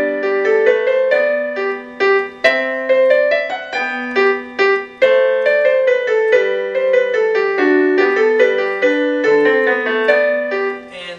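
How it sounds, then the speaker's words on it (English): Solo piano plays Bach's Minuet in G. The notes are clear and evenly paced, with a bright melody over a steady bass line. The sound is close and full, and there is no talking. "we're working on a minuet in G by Bach"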